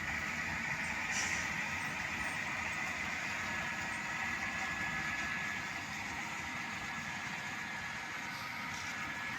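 An HO scale model coal train runs on the main line near a coal mine facility on a model railroad layout, giving a steady, continuous low rumble and hum of motor and wheels at an even level throughout, with no talking.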